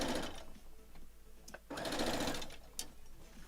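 Close sewing machine chain piecing quilt blocks, a brisk motor hum in two runs separated by a brief pause, with faint talk in the background.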